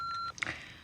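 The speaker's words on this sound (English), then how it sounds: "Please leave a message at the sound of the beep." An answering machine gives a single steady electronic beep at the end of a recorded greeting. The tone is short and clear, then cuts off into faint room noise with a few brief clicks.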